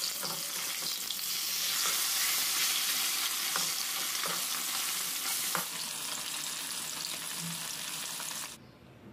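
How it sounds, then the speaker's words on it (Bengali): Pieces of rohu fish fry in hot oil in a pan, giving a steady close sizzle and crackle with occasional stirring clicks, cutting off abruptly at the end. "এইভাবে বাকি পিসগুলো আমি ভেজে নিচ্ছি"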